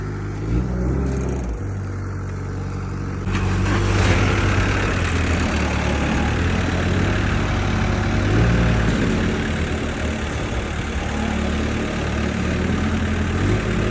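A truck engine idles steadily and loudly close by, a deep continuous rumble that swells slightly partway through as it readies to pull away loaded with sacks of grain; no one speaks.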